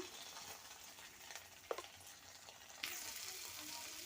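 Spices hitting hot oil in a home kitchen pan, a faint steady sizzle with a few sharp spatters and pops, then a louder surge of frying hiss toward the end.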